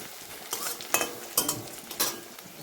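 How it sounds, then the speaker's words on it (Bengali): Onions fry lightly in a pan while a utensil stirs, several short scraping clinks against the pan over a soft sizzle. "এখানে হালকা একটু পেঁয়াজ ভেজে নিচ্ছি"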